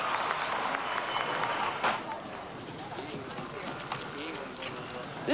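Hooves clip-clop steadily at the National Horse Show at Madison Square Garden, New York City, against a busy crowd murmur, with scattered clapping and voices talking throughout.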